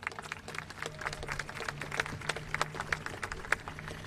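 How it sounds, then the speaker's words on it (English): Scattered applause from an audience at a gathering on tribal issues, faint and somewhat distant, with irregular claps over a low hum. "I just wanted to give another round of applause for Assemblymember James Ramos"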